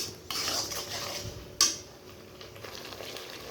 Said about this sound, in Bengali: হলুদ গুঁড়ো, একটু নাড়াচাড়া করে কষিয়ে নেব।